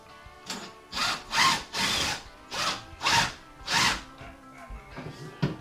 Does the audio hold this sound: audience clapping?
no